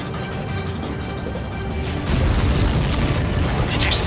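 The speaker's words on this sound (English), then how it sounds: "The missile hit the supply ship dead on." A heavy missile explosion booms as it strikes a supply ship in the flight combat video game Ace Combat 7, a loud burst rising out of steady jet and battle noise.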